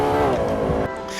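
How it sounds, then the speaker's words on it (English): Lexus LFA engine in the Assetto Corsa racing game, a loud, close, high-revving wail with rising harmonic tones that drops sharply near the end as the revs fall. "you can hear the engine as well, which is just phenomenal."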